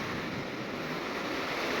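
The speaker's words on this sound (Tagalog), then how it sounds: "So yun, medyo lumalaki na naman ang alon." Sea waves rolling around a large boat offshore, a dense, steady rush of surf and wind noise that fills the brief clip without any voices.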